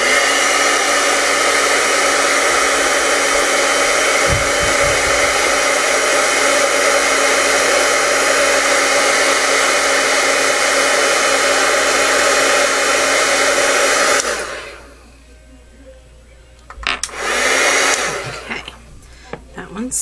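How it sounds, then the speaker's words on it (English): A craft heat tool roars steadily while melting embossing powder, a loud, constant hot-air blast that cuts off after about fourteen seconds, followed by brief quieter rustling and a short second burst. "I'm going to take my heat tool and I'm going to heat it up"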